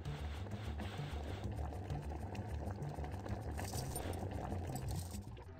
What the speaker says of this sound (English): Pouring all the copper in.